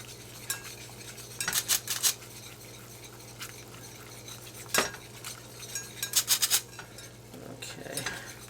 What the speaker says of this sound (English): I'm going to keep whisking, whisking, whisking